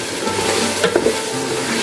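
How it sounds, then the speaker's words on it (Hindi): Onions frying in a karahi, a steady broadband sizzle with faint stirring scrapes in the middle, continuous and close, no talking. "प्याज की भुनाई हो रही है।"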